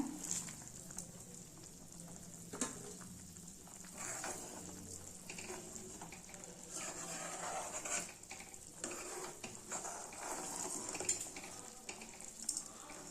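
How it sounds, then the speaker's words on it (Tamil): Steady bubbling and sizzling of an eggplant curry simmering in a pot on the stove, with occasional clinks of utensils, no voices. "ஒரு அஞ்சு நிமிஷம் கொதிக்கட்டுங்க"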